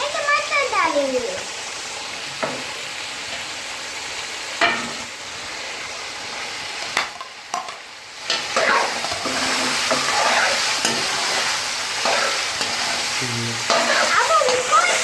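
Chicken pieces and tomatoes sizzling and frying in a karahi at a Pakistani street food stall, with steady loud hiss, stirring scrapes and clanks, and a voice speaking over the cooking.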